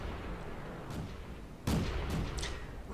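A tank cannon in a video game, the Tetrarch light tank, fires one loud, sharp blast partway through, standing out above a constant rumbling background.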